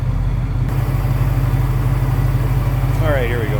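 A 1971 Pontiac Firebird Esprit with a 350 V8 idles smoothly, a steady, loud, close low-pitched rumble with someone talking over it.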